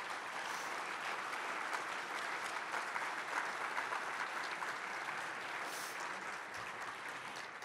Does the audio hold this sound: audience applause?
yes